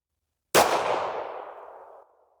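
A single 1911 pistol shot fired on a range, one sharp loud crack with a ringing tail that fades over about a second and a half, no talking.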